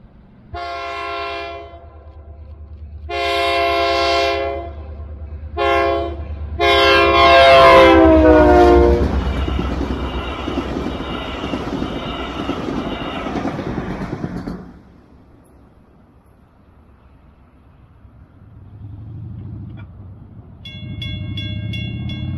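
A Brightline BrightRed passenger train passes on the Florida East Coast rail line at County Road 204 in South St. Augustine, sounding several loud horn blasts before a rushing roar of cars that fades to quiet.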